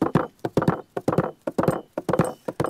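A horse's hooves pound at a short gallop, a quick, close, rhythmic run of clip-clop beats in repeated groups.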